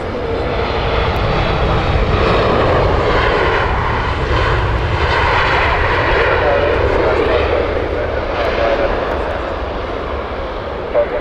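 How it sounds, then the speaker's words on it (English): A British Airways shuttle airliner at Heathrow Airport roars steadily with a loud, sustained engine rumble and whine, while a voice speaks over it. "Shuttle service here from British Airways."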